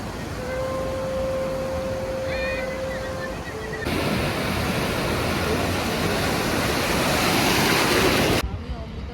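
Sea waves break on the beach at Puri, first as a soft wash under a tonal hum, then as a louder, continuous rush of surf and wind that fills the scene until it stops abruptly.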